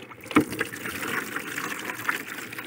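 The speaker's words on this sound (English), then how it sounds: "I'm going to begin by draining this one" Water drains and gushes steadily from a crayfish tank, a continuous liquid rush with a couple of brief knocks near the start, close and moderately loud with no talking.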